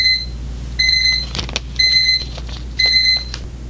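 A wooden alarm clock with Qi wireless charging sounds its alarm in repeated bursts of steady electronic beeping, close and moderately loud, with brief clicks and handling noises between the bursts over a low background hum.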